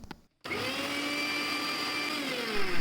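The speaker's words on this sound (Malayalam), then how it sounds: "ഇനി 1 പിടി തേങ്ങ മിക്സിയിൽ അരച്ച് അതിൽ തേങ്ങാപ്പാൽ എടുക്കണം." A mixer grinder grinds a handful of coconut with lukewarm water for coconut milk, starting abruptly after a brief pause and then whirring loudly and steadily, alone and up close.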